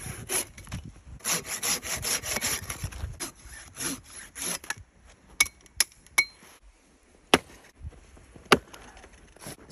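Firewood being sawn by hand outdoors in freezing winter cold, a run of rhythmic rasping strokes close by, then scattered knocks and clinks as the sawing stops.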